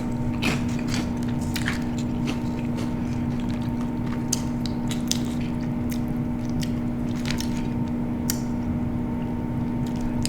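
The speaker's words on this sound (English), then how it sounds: "A little bit of everything on this bite." Someone chews a mouthful of Hot Cheetos with shrimp Alfredo, with steady crunchy, wet bites repeating close to the microphone over a constant background hum.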